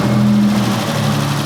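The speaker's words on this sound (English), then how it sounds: "the engine sounds quite tired. It's ticky." A tired 2 litre car engine revs close by, a loud steady drone with a falling pitch and a faint ticking from the valvetrain underneath.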